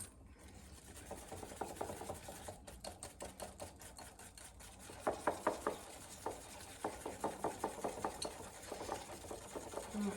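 A whisk or spoon stirs an egg and an egg yolk into melted butter and warm brown sugar in a bowl for cranberry bliss bars, making rhythmic scraping and rasping strokes that come close and steady, with no talking.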